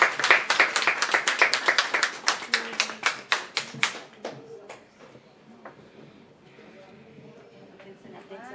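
Audience applause at a poetry book presentation, a run of sharp, fairly rhythmic claps that fade out after about four seconds as a voice begins speaking.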